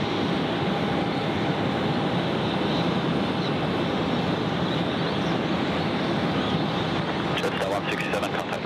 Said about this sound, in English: Jetstar 12 coming in from Narita, so our friends from Japan on their way in, runway 14.